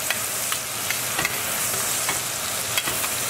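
A steak fries in a pan with bay leaf and thyme on top, giving a steady close sizzle with occasional sharp pops and spits over the constant crackle.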